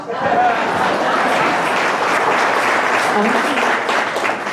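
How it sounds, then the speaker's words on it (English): A crowd at a Las Vegas stage show breaks into steady applause, a dense, even wash of clapping that holds at full strength for a few seconds, with crowd murmur mixed in. "Could we also get a round of applause for Cher?"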